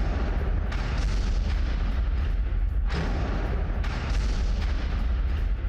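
Missile strikes on a Hezbollah base in eastern Lebanon, heavy thudding explosions rolling one after another into a dense, loud, near-continuous rumble with sharper blasts around three and four seconds in.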